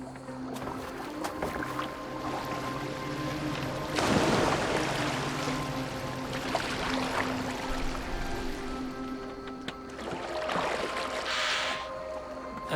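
A boat moves over water in the Viking-era game Assassin's Creed Valhalla, with sloshing splashes and oar-like swells that rise in bursts over a low steady ambient drone, no one speaking.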